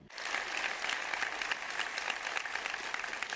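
An audience at a conference talk on drone hacking at RootedCON 2018 breaks into applause, a broad, sustained crowd clapping heard from within the hall, steady and fairly soft overall.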